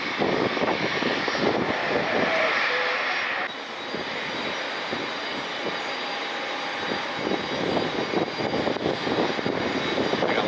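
Jet engines roar at Cleveland Hopkins airport at night, with a Delta Airlines 717 and an Alaska jet nearby. A steady, loud, broadband roar with a constant whine fills the whole stretch, with no voices.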